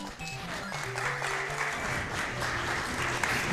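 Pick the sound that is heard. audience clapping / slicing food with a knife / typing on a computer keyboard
audience clapping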